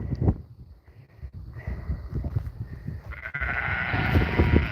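Sheep bleat repeatedly, close and fairly loud, among penned lambs and ewes on a farm with electric high-tensile fencing, over light wind and shuffling movement.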